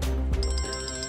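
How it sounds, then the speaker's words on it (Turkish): A telephone rings with a steady electronic ringtone trill in a TV drama scene, loud and close, pulsing rapidly with a low rumble underneath and no talking over it. "Sen git şu telefona bak."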